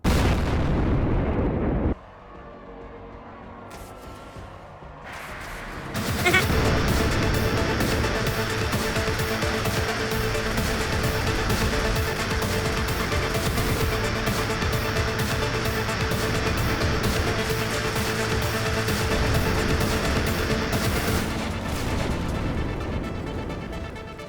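Explosions and heavy artillery-like booms from the Doom mod Trench Foot: Butchers Summit, a dense, loud barrage that kicks in after a brief lull and rumbles on continuously with bursts and pops layered throughout.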